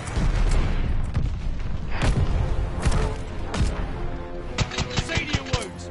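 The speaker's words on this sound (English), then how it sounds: "Enemy's got a glide bomb incoming!" Glide bomb explosions and heavy gunfire in the shooter game Call of Duty Vanguard, a dense barrage of loud booms and sharp cracks, with rapid bursts toward the end.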